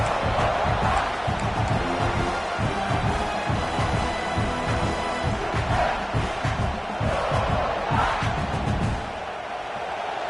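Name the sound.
football stadium crowd cheering to pin the offense deep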